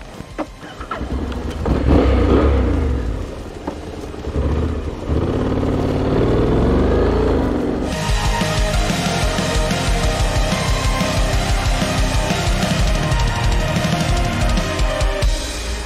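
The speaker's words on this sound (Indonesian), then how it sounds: "Ini Honda XADV 750. Langsung pakai jalan," A Honda X-ADV 750 adventure scooter pulls away and rides off, its engine revving up and then holding a loud, steady drone with road and wind rush.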